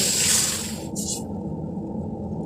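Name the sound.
pouring lassi and gram flour batter into fried masala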